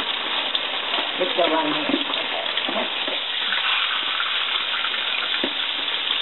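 Sole fish deep frying in hot oil, a steady broadband sizzle and crackle running throughout, close and fairly loud, with a brief spoken remark over it.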